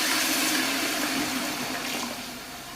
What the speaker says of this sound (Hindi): अब हम इसमें डालेंगे टमाटो पेस्ट। ये देखें जी, टमाटो पेस्ट हम डाल रहे हैं।